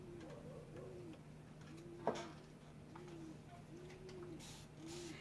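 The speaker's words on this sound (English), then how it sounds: "You can hear the dogs and the birds." Repeated soft cooing calls from a dove outdoors, heard through an open back door, steady and moderately distant, with a single sharp click partway through and a faint constant hum underneath.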